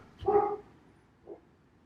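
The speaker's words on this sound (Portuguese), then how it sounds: "Minha cachorrinha aqui está querendo dar um palpite." A small dog lets out one bark followed by a fainter short yip, close by and alone, with no talking.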